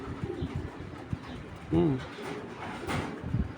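A pigeon gives a soft, low cooing call partway through, heard close amid rustling and faint background voices.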